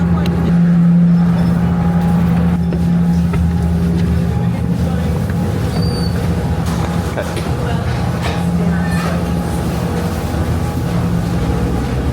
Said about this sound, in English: you then get on a much smaller ferry